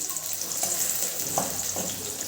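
Tomatoes with red chilli garlic paste fry in a pan with a continuous bright sizzle, broken by a few soft stirring scrapes, close and steady throughout.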